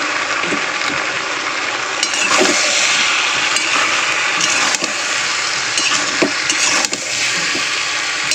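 Turmeric and chili powder spices sizzle and fry in a pan with a splash of water, a steady close crackle with occasional stirring scrapes throughout.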